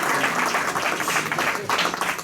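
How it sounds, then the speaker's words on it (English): A room of people at a Rotary Club Christmas meeting gives a short, loud round of steady clapping for the staff. "Let's give the staff a round of applause again."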